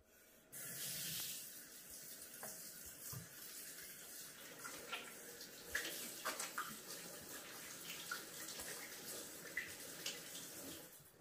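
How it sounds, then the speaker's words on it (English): Running tap water splashes steadily into a sink while hands are washed with soap during food-prep hygiene; a continuous broadband hiss starts after a brief quiet moment, with small splashing accents, and no talking. "First step is to always wash your hands with soap and water."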